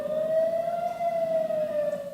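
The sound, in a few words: air raid sirens warning of rocket attack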